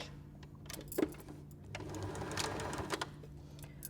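A sewing machine sews a straight stitch around a fabric peg bag, a faint close mechanical whirr with a few clicks and knocks, no talking.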